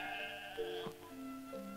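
Several sheep bleat in overlapping, wavering calls, close and fairly loud against a steady outdoor background, with no talking.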